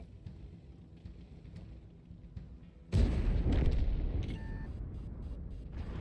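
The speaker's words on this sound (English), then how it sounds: "That artillery, man." Artillery fire in World of Tanks arrives as one heavy, booming impact after a quieter stretch, followed by a long, loud rumbling tail with faint mechanical sounds.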